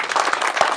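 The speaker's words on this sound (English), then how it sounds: "Let's hear a round of applause for everybody that makes this hamfest" Brief burst of crowd applause at a ham radio hamfest, dense overlapping clapping from many hands, fairly loud and close.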